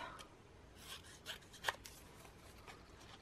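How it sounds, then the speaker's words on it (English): Scissors cut through paper for an art journal with faint, soft rustling snips, a few crisper cuts standing out, quiet and close with no talking. "So I'm just gonna cut a few pieces."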